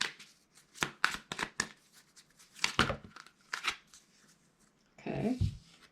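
Tarot cards being shuffled by hand: repeated crisp riffling bursts in quick irregular succession, close and fairly loud, ending in a denser flurry, with no talking.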